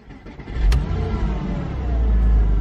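A Porsche Boxster S engine, just repaired after misfires, starts with a sharp click and then settles into a loud, close, steady idle that swells slightly as it revs, with no one talking.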